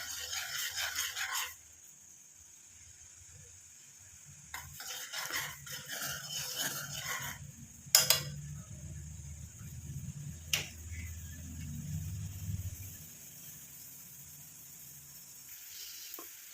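Liquid bubbles and sizzles in an iron pan in soft, close bursts separated by quieter gaps.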